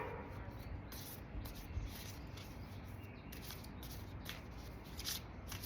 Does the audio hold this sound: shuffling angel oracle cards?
yes